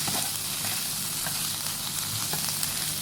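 Shrimp fry in a hot pan for a Thai garlic and fresh chili shrimp dish, giving a steady, loud sizzle with occasional stirring scrapes throughout and no talk.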